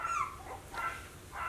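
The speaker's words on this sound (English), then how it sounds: "Sorry for the background barking." Six-week-old Havanese puppies yip and bark in the background, a few short high-pitched calls at moderate distance with no talking over them.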